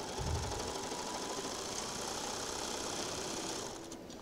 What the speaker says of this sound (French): je pique un velours côtelé